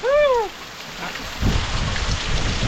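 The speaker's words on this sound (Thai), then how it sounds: "นี่ครับฝนตก" A bird chirps briefly before heavy rain takes over as a loud, steady downpour, with low rumbles of thunder rolling underneath the hiss.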